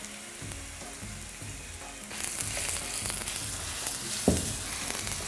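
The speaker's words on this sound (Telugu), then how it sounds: "ఆ ఉల్లిపాయలు పోయి కొంచెం వేగని, ఉల్లిపాయలు వేగని కొద్దిగా." Onions fry in a pan on a Telugu cooking show, the sizzle rising sharply partway through as they hit hot oil, with a brief utensil clink toward the end over a steady crackle.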